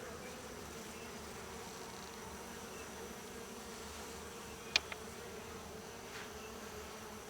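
Bees hum steadily at a hive during feeding and a first-week inspection, a continuous close buzz with a couple of sharp clicks near the middle, no talking.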